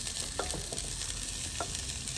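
Green chillies added one by one and sautéing in hot oil for Tamil-style chicken fried rice, a steady close sizzle with a few brief clinks of stirring, no voices.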